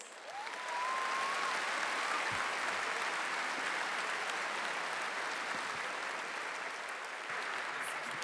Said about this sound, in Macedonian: Поздравете ги со громогласен аплауз вашите домакини